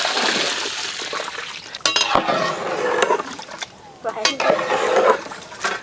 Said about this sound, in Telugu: దీంట్లో మనం కొలత ప్రకారం నీళ్ళు యాడ్ చేద్దాం